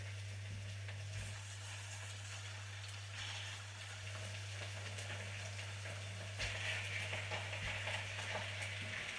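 Chicken pieces fry in a small amount of oil in a pan, giving a steady close sizzle with crackling bursts over a constant low hum, and no one speaking.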